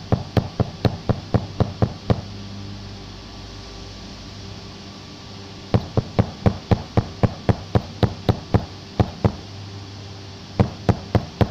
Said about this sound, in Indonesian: masukkan dengan cara diketok-ketok.